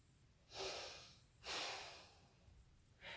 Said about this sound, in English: Breathe into the chest.